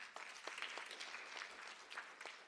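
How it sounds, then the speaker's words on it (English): Audience applause at a social justice symposium, a quiet, steady patter of many hands clapping at a distance for a panel, with no voices over it. "Bro, round of applause."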